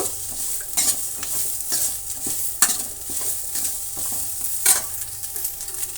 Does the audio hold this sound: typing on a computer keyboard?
no